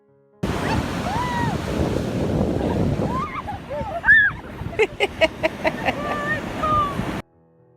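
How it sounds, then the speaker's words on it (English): Ocean surf on the California coast just south of San Francisco rushes and roars close by under gusty wind noise, while brief voices and a few sharp knocks break in toward the end. "we're heading for the ocean"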